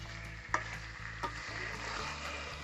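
Chicken pieces coated in ground spice paste sizzle steadily in a pan for a chicken curry, with a couple of sharp stirring knocks standing out over a low constant hum.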